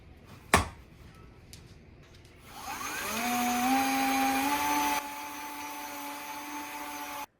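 Qimedo M3 cordless electric mop starting up and scrubbing a floor, a steady motor whine rising in pitch and holding, close and moderately loud, after a sharp knock.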